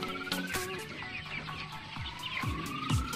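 Twenty-one-day-old broiler chickens cluck and squawk in a crowded coop, with repeated sharp rising and falling calls over a busy background of overlapping bird sounds and no talking.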